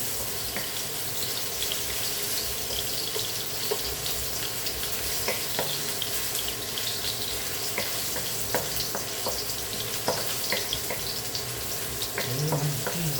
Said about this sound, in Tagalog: Luya muna para hindi masunog ang bawang.